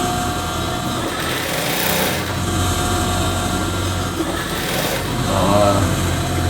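A sewing machine hums and whirs steadily up close, a continuous mechanical drone with a slight rattle from a fault, running without pause throughout.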